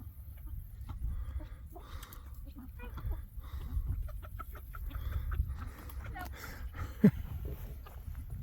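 Chickens cluck softly and intermittently around a ranch yard during hot-weather morning chores, with low rumbling background noise and a sharp brief knock near the end.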